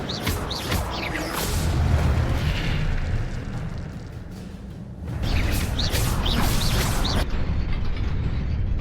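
A fire spell is cast in the video game Hogwarts Legacy: a loud, roaring burst with booming, crackling, mechanical texture that surges, dips briefly, then flares again before cutting off, with no talking.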